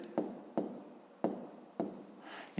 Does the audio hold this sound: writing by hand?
yes